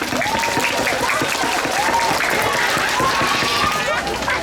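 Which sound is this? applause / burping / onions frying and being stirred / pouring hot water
applause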